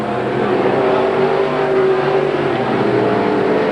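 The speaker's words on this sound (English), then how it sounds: "They come down the front chute at 90 miles an hour down the front straightaway." Sportsman race cars roar down the front straightaway at about 90 mph on a 1989 oval track, a loud, sustained engine drone that holds steady throughout.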